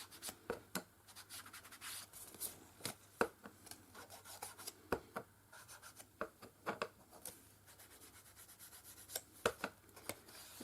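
Paper edges of a journal pocket being distressed, heard as close, soft scratchy rubbing strokes in irregular bursts, quiet and alone.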